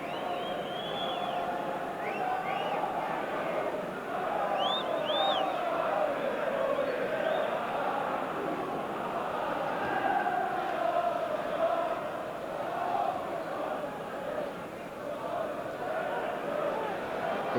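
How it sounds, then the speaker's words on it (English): Football crowd at a 1994 Newcastle United versus Arsenal match jeering the visitors, a steady distant roar with scattered whistles and shouts running throughout, a commentator's voice faint over it. "we're getting a fair old bit of stick from the crowd here"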